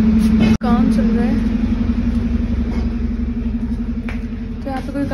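A tractor engine runs nearby at construction work around a house, a loud steady low rumble throughout under someone speaking.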